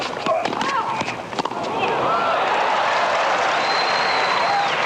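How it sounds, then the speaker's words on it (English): Tennis crowd at the 1985 Lendl versus Connors semifinal in Stratton Mountain, scattered clapping from the stands that swells into a broad steady wash of applause, with a commentator talking over the opening. "Crowd are clapping."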